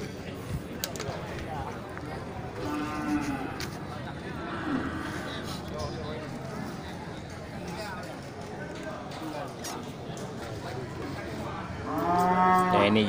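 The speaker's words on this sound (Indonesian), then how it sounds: "terlihat sapi-sapi indukan ya, dari jenis sapi Aceh dan sapi bless" Aceh cattle moo several times amid a busy farmyard at a cattle trading stall, with people chatting nearby; a louder, clearer moo rises near the end.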